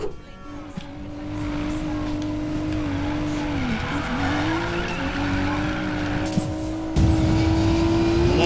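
Audi with stance tuning sliding sideways on a winding serpentine road in Need for Speed Payback, steady engine drone with a rising and falling tire squeal tone throughout, engine note swelling near the end.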